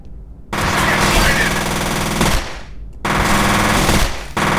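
Rapid automatic gunfire in the first-person shooter game F.E.A.R., loud continuous bursts that cut off briefly and resume, with a short drop-off between volleys.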